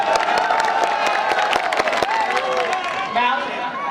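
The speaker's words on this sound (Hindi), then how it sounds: "एक बार जोरदार तालियां आप लोग बजा दीजिए इनके लिए।" A mushaira audience in Ludhiana breaks into applause for a poet, with dense clapping and some cheering mixed under a speaking voice at steady, fairly loud level.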